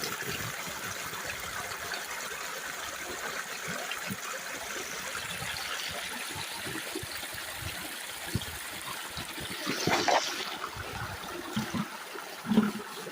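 Water churns and trickles steadily from an automatic feeder stirring a gold sluice bucket. The flow is continuous and fairly close, with a brief louder gush and a few knocks near the end, and no speech.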